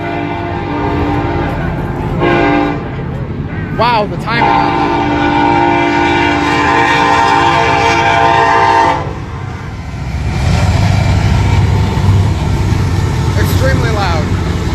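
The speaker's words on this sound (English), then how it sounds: "oh, there's actually a train coming." A train rolls past a crossing at night in Tucson, Arizona during a street protest, its horn blaring loud and close over the heavy rumble of wagons, with people talking nearby.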